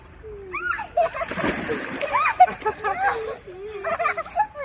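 Children splash in a river nearby with bursts of sloshing, while their excited voices chatter and call out throughout.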